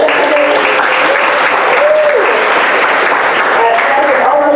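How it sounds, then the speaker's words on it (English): Conference audience applauding the organizers at Logicon 2016, a steady, dense wash of clapping that holds for the whole stretch, with a few faint voices rising over it. "we get a round of applause for the organizers"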